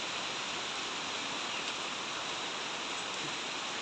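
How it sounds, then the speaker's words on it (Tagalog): Rain falls steadily in an even, soft hiss throughout, fairly faint and continuous, with no voices. "Maulan dito sa amin, pero mainit."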